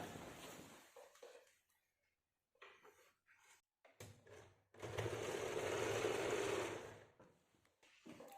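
A sewing machine stitches a kameez in one quiet, steady run of about two seconds, set between soft fabric handling and pauses.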